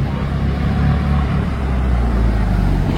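A full-green Porsche GT2 RS with green wheels drives past on a busy street in Cannes, its engine a steady, loud rumble mixed with surrounding traffic noise throughout.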